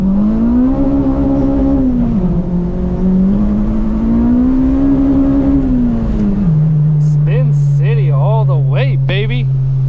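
Acura RSX Type S with a hybrid racing clutch master cylinder accelerating hard on a wet road, the engine note climbing steadily and loud, then dropping after a shift as someone talks over it.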